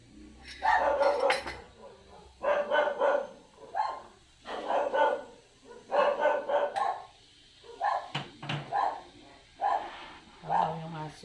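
Repeated dog barks in rhythmic bursts, fairly close, with a second dog's barking mixed in and faint clatter of dishes.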